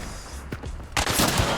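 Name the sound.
gunshot in video game Hunt: Showdown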